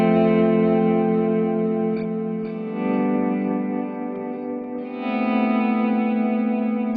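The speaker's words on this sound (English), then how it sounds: "what you're hearing there is just some analog echo, and then with the vibrato as well in the modulation section." Guitar played through a TC Electronic Nova System multi-effects processor with analog echo and modulation-section vibrato, sustained chords swelling and wavering, with echoing repeats blending into a dense, loud wash that shifts twice.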